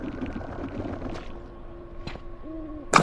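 An owl hoots in the PS2 video game Blood Omen 2: Legacy of Kain, a soft low call heard alongside game ambience, faint ticks and a sharp thump at the end.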